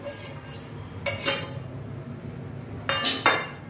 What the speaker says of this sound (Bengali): এবার আমি একটা ঢাকা দিয়ে দিচ্ছি।